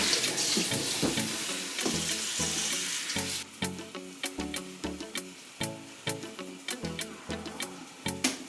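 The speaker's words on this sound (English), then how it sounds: "clean it with some cold water" Cold water runs from a tap onto a hot cooking pot, starting as a sizzling hiss and giving way to steady splashing and clattering as the pot is rinsed in the sink. The sound is close, with no talking.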